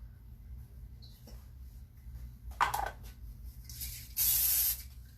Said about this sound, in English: Barely spray it. It doesn't need much spray.